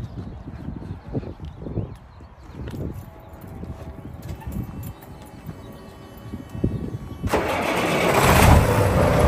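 Freightliner FL120 truck with a Detroit Diesel engine cranking and starting, low mechanical knocks and rumble building into a loud, broad diesel roar near the end, close by.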